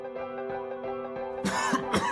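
A few harsh coughs break out near the end over a steady tonal background hum.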